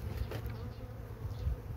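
Honey bees buzzing at a beehive in colonies hit by varroa mites and viruses, a dense continuous hum with brief louder passes of individual bees close by, no talk.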